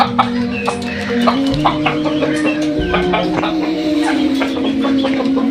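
Fayoumi chickens cluck and chatter continuously nearby on a hatchery farm in Baniachong, several birds at once, loud and busy with overlapping calls.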